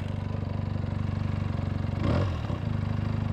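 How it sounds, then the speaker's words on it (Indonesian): A Benelli TNT 250 two-cylinder motorcycle engine rumbles steadily at idle, then briefly revs up with a throaty burst before settling back to its lumpy, uneven idle. "Motor ini ada 2 silinder, tapi bunyinya kayak 3 silinder"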